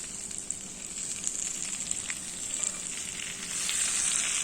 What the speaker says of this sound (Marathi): उकळलेलं तेल गरम गरम जे आहे ते आपण अशा पद्धतीने व्यवस्थित असं टाकून घेणं